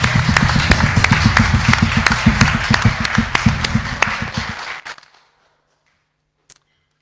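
A church congregation applauds together, steady, dense clapping that carries on for several seconds before tapering off and stopping, followed by near silence and one faint knock.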